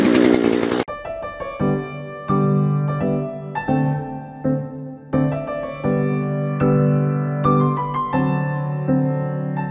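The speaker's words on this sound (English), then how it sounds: "let's get started with the new chainsaw" A loud new chainsaw engine runs close by, its buzzing pitch jumping up and down as it revs repeatedly, with no talking.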